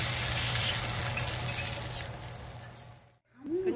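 Korean rice paper seaweed chips (gimbugak made with rice paper) frying in hot oil, a steady close crackling sizzle that fades slightly before a short silent gap near the end.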